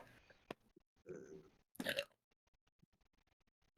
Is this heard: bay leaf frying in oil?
no